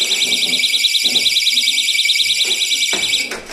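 A loud, continuous electronic door entry alarm in a shop beeps in a rapid repeating pattern, with faint background noise underneath.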